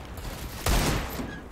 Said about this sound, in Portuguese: já soltando disparos